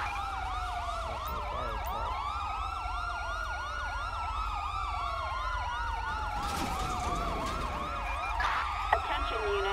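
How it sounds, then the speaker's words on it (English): An ambulance siren wails in GTA V as the vehicle responds code 3, first in rapid, repeating yelps and then in slower rising and falling sweeps, steady and prominent with faint road traffic underneath and no talking. "An ambulance is responding code 3."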